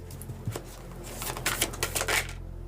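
Tarot cards being shuffled by hand, a run of quick papery riffles and flutters in close-up that builds toward the end, then cuts to quiet; no talking.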